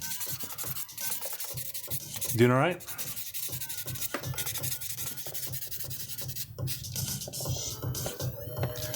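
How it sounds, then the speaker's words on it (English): Glued seam lines on a plastic Macross Queadluun Rau model kit are sanded with repeated close, scratchy rubbing strokes in a steady rhythm, and a voice briefly speaks over them. "so I was about to sand them"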